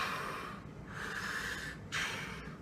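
A voice imitates Darth Vader's mechanical breathing from Star Wars: two long, hissing breaths, an inhale and then an exhale, rasping and close, with no other sound around them.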